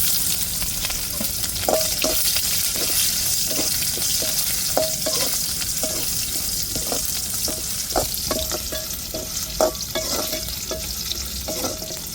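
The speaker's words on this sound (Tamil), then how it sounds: "அடுப்பில் கடாயை வச்சாச்சு, எண்ணெய் ஊற்றியாச்சு, சூடேறிட்டு இப்போ பட்டை வகையை சேர்த்துக்கிடுவோம். வெங்காயம் சேர்த்துக்கிடுவோம்." Cinnamon and onion frying in hot oil in a kadai, a steady close sizzle with repeated scraping stirs of a spoon against the pan throughout.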